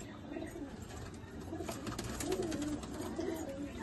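Pigeons coo in low, rolling murmurs, a steady soft chorus close by with faint background noise.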